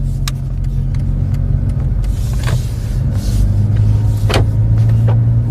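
Inside a moving car, the doors lock automatically with a brief clunk, nearly lost under loud, steady road and engine rumble.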